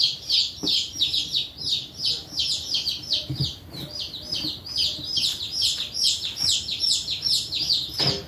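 A brood of newly arrived baby chicks cheeps continuously, a busy, overlapping chorus of high, rapid peeps up close, with faint soft knocks and rustles underneath.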